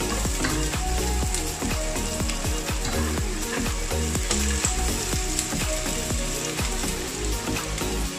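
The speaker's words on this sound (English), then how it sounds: "Kung iba na yung kulay ng ating onion, pwede na natin ilagay yung ating giniling." Ground pork tumbles into onions sautéing in a pan for mung bean sprout spring roll filling, raising a steady, loud sizzle with frequent scraping and clattering stirs throughout.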